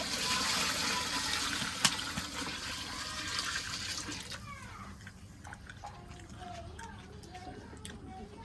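Water pours and splashes steadily into a cooking pot of pilaf for several seconds, then stops, leaving quieter clinks and faint background sounds.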